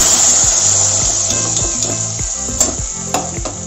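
Hot tempering seasoning is tipped into a jackfruit seed and mango curry, giving a loud, bright sizzle that fades gradually while a spoon scrapes and knocks against the pan in repeated strokes.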